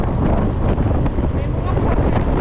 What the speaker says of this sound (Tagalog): Ang lakas ng dagat ngayon mga kasilag, oh, lakas ang hangin!